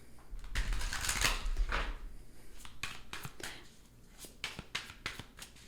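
A deck of tarot cards is shuffled by hand, giving a continuous close rustling and riffling with soft taps and flicks throughout.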